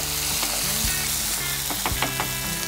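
Garlic and other ingredients for a dried-fish curry stirred and frying in a pan, a loud close sizzle with repeated utensil scrapes and clinks against the pan.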